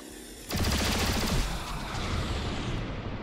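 Gunfire from the video game XCOM: Chimera Squad opens with a sudden loud burst of rapid shots that rolls into a sustained, dense clatter and rumble before easing into a steady noisy tail.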